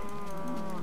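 Cows mooing in Minecraft, one drawn-out low bovine moo that carries a clear tonal pitch and fills the short moment close up.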